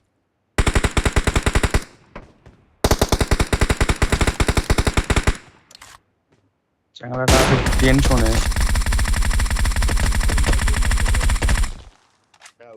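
Automatic gunfire in the video game PUBG comes in three loud, close, rapid bursts, the last one long and sustained, with short silent gaps between them and a voice speaking briefly.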